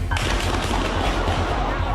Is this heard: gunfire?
yes